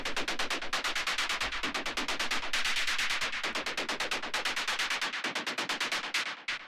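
Dark warehouse techno percussion, a rapid train of bright noisy hits with echo trailing each one, loud and driving, with a deep bass rumble underneath that drops out near the end.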